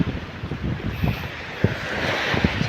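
Sea waves wash in over a rocky shore where sea cockroaches live. A low, continuous rush of surf sits under gusty wind buffeting the microphone, with a few sharper splashes.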